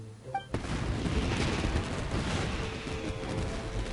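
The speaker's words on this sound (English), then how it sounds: "Yoimiya, this is turning into a bit of a fireworks display" Fireworks in the Genshin Impact game burst in a dense, continuous crackling roar of rapid pops and booms that starts abruptly after a brief quiet moment and stays loud throughout.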